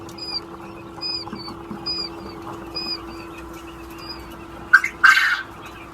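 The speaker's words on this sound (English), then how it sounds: "That's a lot of baby quail." Baby quail chicks peep in a rapid, repeated high chirping chorus at a quail farm, moderately close, with a brief rustle and scuffle near the end.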